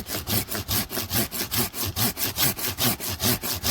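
A hand saw cuts through a tree branch outdoors, with steady back-and-forth rasping strokes in an even rhythm, about four per second, loud and close.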